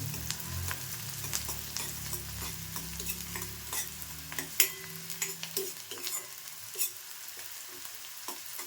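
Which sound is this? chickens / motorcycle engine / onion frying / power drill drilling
onion frying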